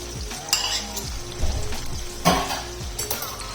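Whisked yogurt goes into black pepper chicken karahi frying in oil, a loud close sizzle with repeated spoon scrapes and pan clinks as the mixture is stirred.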